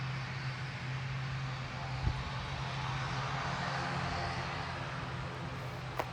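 Airplane taking off at Grantley Adams International Airport in Barbados, a distant, steady engine roar with a low hum, faint and continuous beneath outdoor ambience.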